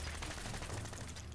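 Gun fired in Fallout, rapid repeated shots with heavy recoil, a dense rattling burst of pops close and continuous across the short span, no talk.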